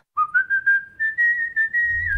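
Whistling from a Carrefour TV advertisement: one bright sustained melodic whistle that runs steadily in short connected phrases, loud and close, with no talk over it.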